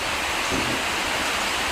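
Steady rain falls in a continuous even hiss, fairly close, with no distinct drops or pauses and no voices.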